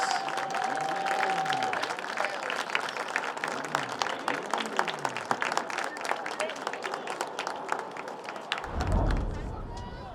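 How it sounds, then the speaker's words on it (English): Spectators at a high school boys soccer senior ceremony applaud in a steady patter of clapping with crowd murmur, fading near the end as a low thud and noise take over. "let's give our seniors another round of applause."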